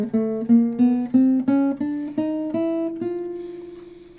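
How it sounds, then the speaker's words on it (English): Twelve intervals of the octave in the mean-tempered system, played one after another as plucked or struck tones, each note sounding over a steady lower tone and stepping upward in an even rhythm before a final ringing decay. "So it sounds like this if you play all intervals."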